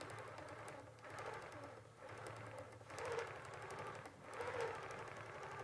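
A Q'nique 19 sewing machine runs steadily at close range, its motor whirring with a fast repetitive needle clatter that swells louder as the speed is raised, with no talking.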